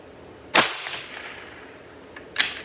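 Two sharp rifle shots at a shooting range during zeroing, the first loud crack followed by a brief decaying echo, a second shot about two seconds later, with no talking.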